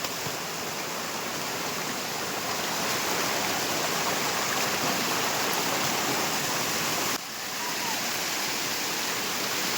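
A waterfall roars as a constant, dense rush of water, loud and close, with an unbroken hiss that barely shifts across nearly ten seconds.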